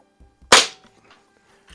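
A Crosman 3622 air pistol fires a single sharp, loud crack that decays quickly, with faint handling noise before and after.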